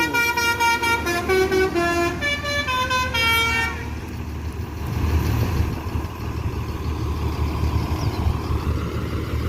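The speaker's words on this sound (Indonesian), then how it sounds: "Ini bus Sumbar yang ketiga masuk Terminal Barai Solok" A bus horn honks in a rapid run of musical toots over a rumbling engine as it arrives at Barai Solok bus terminal, then the motor idles and rolls on at close range.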